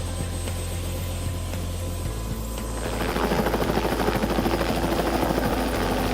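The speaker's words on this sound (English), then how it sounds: "And just like that, our helicopter was gone." A helicopter near Berg Lake gives off a steady, continuous rotor and engine roar that grows somewhat rougher and stronger partway through, with no voices.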